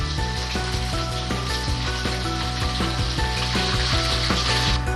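Fish fries in hot oil in a wok, a constant close sizzle and crackle with faint tonal hum in the background, no talking.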